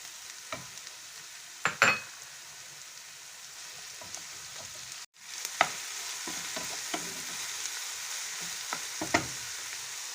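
Minced meat fries in a pan with a steady soft sizzle, broken by a few clattering stirs and scrapes of a utensil, close by and without speech.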